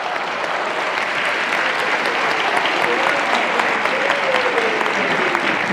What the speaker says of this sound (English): Another round of applause for our choir,